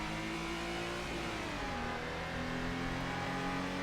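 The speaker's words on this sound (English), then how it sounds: "Listen to that engine and it's go, go, go." A race car engine in the video game Assetto Corsa revs hard and steadily, its high whine holding and shifting pitch as it accelerates and shifts gears, loud and close with no talk.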